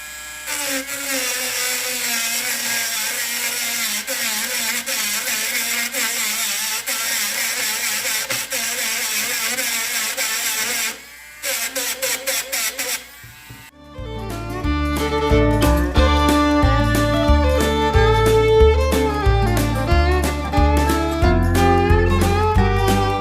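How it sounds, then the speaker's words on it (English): A micro Dremel rotary tool whines steadily as it trims small wooden pieces sticking up about an eighth of an inch in a woodworking shop, its tone dropping briefly before a louder, busier stretch with changing pitch. "I found the perfect little tool, I believe, for this. This little micro Dremel."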